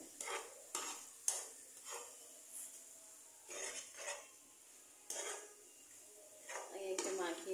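Rice flour being mixed by hand a little at a time for naru, producing soft, intermittent rubbing and stirring scrapes in short bursts, with a brief clink near the end.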